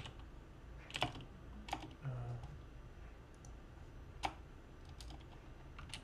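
Computer keyboard typing and mouse clicking during work in Android Studio, giving a few sparse, separate clicks and taps at close range, quiet and irregular over faint background hum.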